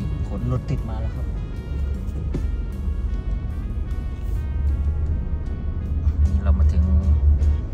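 Low engine rumble and road hum from cars crawling in a heavy traffic jam on inbound Route 2 before the Bang Khun Thian interchange, steady and close, under someone talking throughout.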